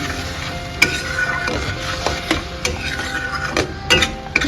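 Spices and fish gravy being sautéed in a pan with a little water, a busy sizzle overlaid by repeated spatula scrapes and clinks against the metal.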